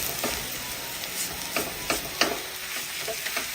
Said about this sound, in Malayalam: പൊടിയുടെ പച്ചമണം മാറി കിട്ടുന്നവരെ ഒന്ന് ഇളക്കി കൊടുക്കാം.